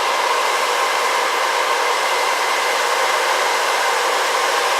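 A BR Bluerise nail dust collector fan runs steadily, giving off a loud, even whooshing hiss of rushing air, like a hair dryer, with no change throughout and no voices.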